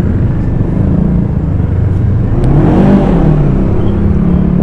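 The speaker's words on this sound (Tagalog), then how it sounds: "iba ang tunog talaga ng naka 2 cylinder" Bristol Venturi 500 two-cylinder motorcycle engine on a test ride, a steady loud low rumble that swells into a rising rev near the end, heard alone without talk.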